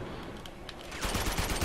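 Gunfire in Uncharted 2 with a shotgun in play: a busy burst of overlapping shots and impacts that grows louder and denser partway through, like a firefight, with no voice over it.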